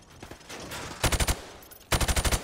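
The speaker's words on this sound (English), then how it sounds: "Now, shoot at the targets while firing from the hip." Automatic rifle fired from the hip at range targets in Call of Duty: Modern Warfare, two rapid bursts of five or six sharp, loud shots with a short pause between.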